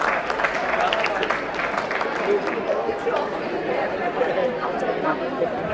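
Audience applause at a corporate summit at Jaipuria Institute, honouring two guests, with steady clapping mixed with crowd chatter and voices throughout, sustained and fairly loud without a break.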